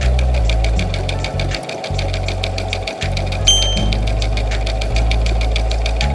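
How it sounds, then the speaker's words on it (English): An air conditioner running during a Northeast heat wave, a loud steady mechanical drone with rapid rhythmic pulsing, close and continuous throughout. "Please do forgive the air conditioner."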